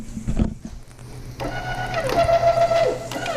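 Electric tongue jack motor on a 2021 Jayco Jay Flight SLX 324BDS travel trailer whirs into motion after a brief knock, running with a steady mechanical buzzing whine close by.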